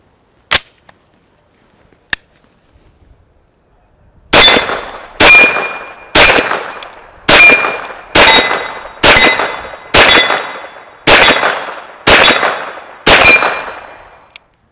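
Repeated shots from a Keltec SUB 2000 striking steel targets: nine loud, evenly spaced ringing impacts in quick succession, each with a sharp crack and metallic ring, after a couple of isolated faint shots earlier and no talking.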